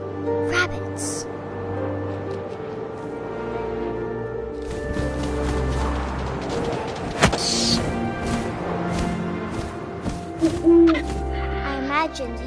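An owl hoots in the video game What Remains of Edith Finch, a few soft low calls set among wind, game ambience and scattered effects, with a narrator speaking over parts of it.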